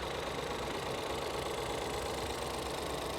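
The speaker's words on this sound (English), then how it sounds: "the engine sounds fine" A Buick Encore with a 1.6-liter engine idles in a steady, continuous rumble at moderate distance, an even mechanical hum with no talking.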